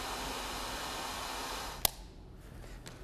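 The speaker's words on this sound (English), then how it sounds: "Whip out your hairdryer" A steady broadband whoosh of a hairdryer runs for nearly two seconds, then cuts off with a click, leaving quiet room tone.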